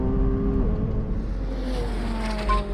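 A McLaren 720S Spider accelerates hard through a standing quarter mile, its engine note climbing steadily through the gears at close range, loud and continuous with no talking.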